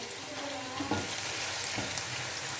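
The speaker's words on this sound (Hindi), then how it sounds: "अब ये हम प्याज डालकर इसको हल्का ब्राउन करेंगे।" Finely chopped onions browning in hot oil for a masala fish curry, a dense steady sizzle with soft stirring scrapes throughout.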